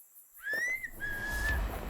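A single whistle rings out as a sound effect in a horror story set in dark woods at night, a clear two-part tone, close and bright over a low rumble.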